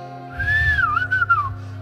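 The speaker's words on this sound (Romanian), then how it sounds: "Fluierașul, domnule" A small Romanian folk flute, the fluieraș, plays at a live performance in Ilva Mică: one short, clear, bending melodic phrase, close and prominent over a low soft drone.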